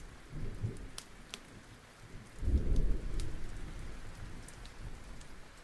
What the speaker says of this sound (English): I like putting the rain on. And I also like putting the thunder on.